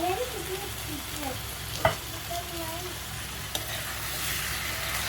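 Onion, ginger, green chilli and curry leaves cooking in a pan for a stingray fish curry, giving a steady low sizzle with soft stirring scrapes and one sharp utensil knock, with no talking.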